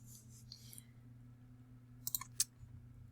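A computer mouse clicks on files: a few faint clicks early on, then a quick burst of sharp, close clicks near the end over a low background hum.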